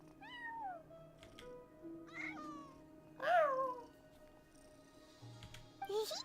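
A cat in the video game Genshin Impact meows several times in short, separate calls, the loudest in the middle, close and clear over a quiet background.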